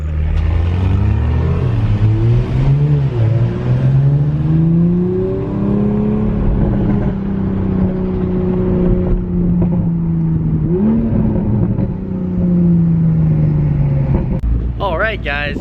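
A Toyota Supra sports car pulls up outside a restaurant, its engine giving a loud, close, low drone that rises and falls in pitch as it rolls in and settles.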